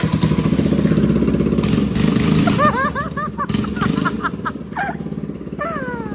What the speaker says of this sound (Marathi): हे बघा तुटलं सगळं आणि आवाज दाखवा आता कसा येतोय गाडीचा